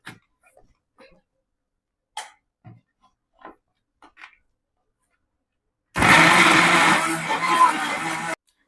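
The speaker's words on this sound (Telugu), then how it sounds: "నేనైతే చికెన్ పీసెస్ అంతా ఈ మిక్సీలో ఏస్తున్నాను" A kitchen mixer grinder minces chicken pieces into keema: after a few scattered light knocks and clinks, the motor roars loud and close for about two and a half seconds, then cuts off abruptly.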